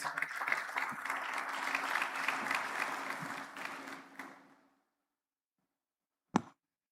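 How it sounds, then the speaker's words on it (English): A graduation audience at Lagos Business School claps in warm, steady applause that fills the hall for several seconds. It then fades out, leaving silence broken by a single sharp knock. "Please, a warm round of applause."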